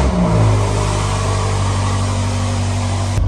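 A rebuilt, previously wrecked BMW M5 engine revs up close by, a loud droning tone climbing at first and then holding steady before cutting off abruptly at the end.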